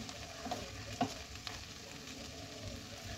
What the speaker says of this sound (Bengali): এবার ভালোভাবে একটু নেড়ে দিলাম।